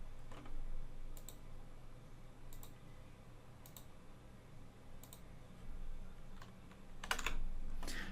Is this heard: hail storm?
no